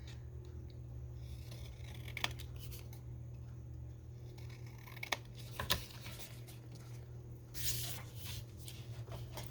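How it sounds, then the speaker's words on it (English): Scissors cutting out printed Christmas cupcake journal cards, a few soft scattered snips and paper rustles over a steady low hum, ending in a longer sliding cut, quiet and close with no talk. "Just cut out a couple of these."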